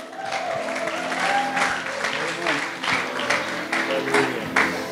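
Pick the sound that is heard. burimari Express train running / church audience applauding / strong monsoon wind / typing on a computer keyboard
church audience applauding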